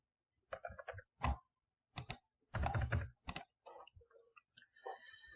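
Bursts of computer keyboard typing as a username and password are entered, clustered keystroke clicks in short runs separated by pauses, close and fairly quiet with no voices.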